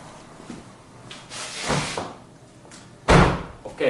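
Car doors open and shut during a check after muting a car alarm: latch clicks and rustling, then a heavy, close slam near the end followed by a lighter knock.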